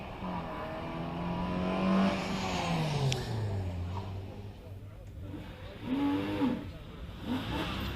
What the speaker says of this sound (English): Justin Mather almost at the finish line, followed by Michael Brown with the Porsche 944.